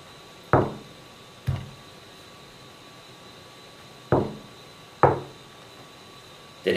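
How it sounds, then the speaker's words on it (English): Knocks and taps on a table during a day/night knock-tap game, five distinct sharp strikes with uneven gaps, close and clear against a quiet background with no talk. "When I knock, you tap. And when I tap, you knock."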